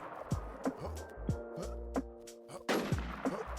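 Sharp, separate gunshots in the shooter game Warz II, several loud close reports at irregular intervals, each followed by a short ringing tail and clicking handling noises.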